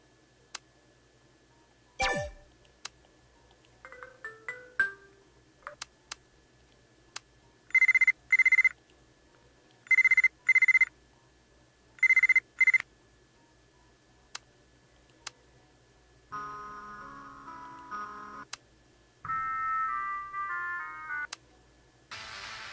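Phone ringtones auditioned in the video game Buried Stars: short bursts of a repeating electronic ring pattern, then a couple of longer melodic tone sequences, separated by soft menu clicks and ticks, with no talk.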